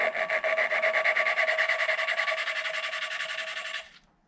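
A valve is lapped into the head of a Honda CB500/550 engine, a rhythmic back-and-forth gritty rasping, fast and even, that runs close and steady for about four seconds before stopping abruptly.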